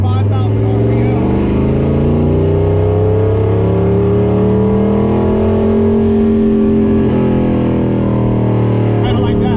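A turbocharged Foxbody Mustang engine, freshly built and being broken in, climbs steadily in pitch as it revs toward 5,000 RPM, loud and close with rising harmonic tones throughout.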